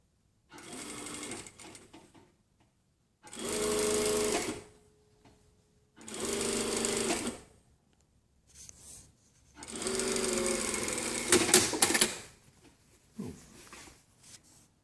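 Sewing machine stitching garment seams in four long bursts of rapid whirring and needle clatter, separated by short pauses, loud and close with no talk.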